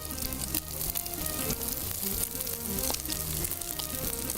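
Cooked rice stir-fried with egg in a hot pan, a continuous close sizzle with light scraping and stirring throughout, over a faint tonal background hum.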